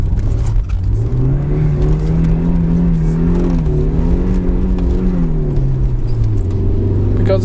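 A BMW E36 318i engine roars loudly up close, its pitch rising and falling as the car drifts sideways, with tyre noise underneath.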